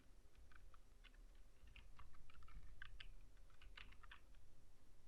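Quick, light clicking of fingers typing a link address on a computer keyboard, irregular taps in short bursts, faint against a low background hum, with no voices.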